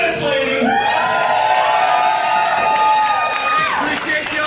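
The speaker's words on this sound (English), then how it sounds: "Cheer this lady." A crowd at a live pro wrestling event cheers and whoops loudly and steadily, with sustained shouts from many voices rising and falling throughout.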